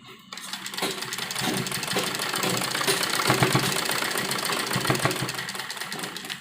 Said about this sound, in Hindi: और डबल सिलाई हम इसके ऊपर लगाएंगे।